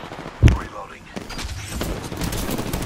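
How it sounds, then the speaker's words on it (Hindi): Gunfire from above in a shooter video game, one sharp loud blast near the start followed by scattered fainter shots and a busy rumbling background, with a voice speaking over it. "ऊपर से फायर कर रहा है"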